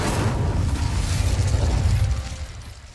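A roaring whoosh of flame from the Incendio fire spell in Hogwarts Legacy bursts out loudly and sustains with a dense rumble before fading over about three seconds.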